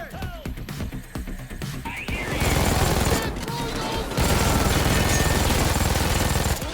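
Rapid automatic gunfire in the Payday 2 video game from a machine gun with a very high rate of fire, loud sustained bursts building after a brief lead-in, with a voice talking over parts of it.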